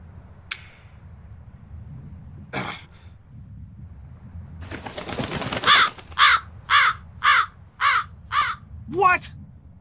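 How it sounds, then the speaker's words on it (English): A crow in the video game Tales of Berseria caws six times in a steady, evenly spaced run of loud, harsh calls, following a few scattered thuds and flutters. "That crow just flew off with the coin!"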